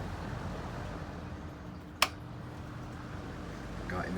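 A 1990s Lakewood 12-inch window fan, model HV-12-WR, runs on its medium setting, giving a steady, quiet whoosh of air with a low motor hum and a single sharp click midway.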